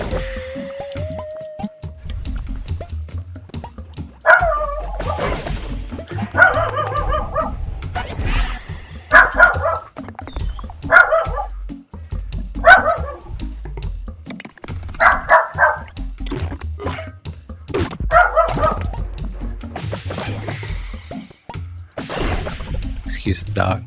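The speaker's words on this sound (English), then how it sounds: "Oh, excuse my dog." A pet dog, upset about neighbors' dogs outside, barks repeatedly in loud, close bursts with yips and whimpers between them, under a running game soundtrack.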